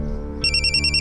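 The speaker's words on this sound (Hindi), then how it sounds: "खान सर का फोन" A phone ringtone kicks in partway through, a bright repeating electronic melody ringing loudly over a low background hum.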